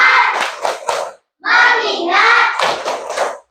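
A classroom of children performs a rhythmic focus clap, sharp claps in quick patterned bursts separated by a brief pause and a stretch of chanted voices, fairly loud and close.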